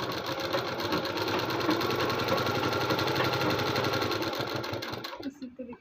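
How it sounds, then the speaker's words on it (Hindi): A sewing machine runs a long, steady stitch along suit lining fabric folded half an inch in, its rapid needle chatter continuous and close before cutting off near the end. "और यहाँ से पूरा आप सिलाई चलाएंगे"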